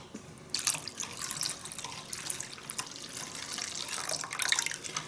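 Cold tap water runs into a jelly mixture being made for a trifle, a steady hissing splash with small bursts and drips, close and fairly quiet, with no talking.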